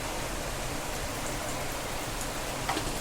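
Cumin seeds and a few curry leaves sizzle in hot oil in a pan, a dense, even crackling hiss that holds steady throughout without any talk.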